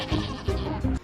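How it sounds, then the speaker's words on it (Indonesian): Cute sea fish bleating like goats, as herded by a young sea monster in the Pixar animated film Luca: three short, nasal bleats in a row, each repeated about every third of a second, fairly close and clear with almost no talk. "cuma mengembala ikan-ikan lucu bersuara kambing"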